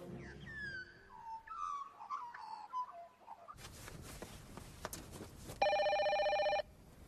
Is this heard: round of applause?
no